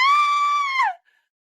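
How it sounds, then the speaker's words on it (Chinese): A single long, high scream rings out in an animated apocalypse story, holding steady and then sliding down before ending abruptly in silence. "听到远处传来的惨叫"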